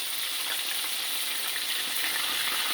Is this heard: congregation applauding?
no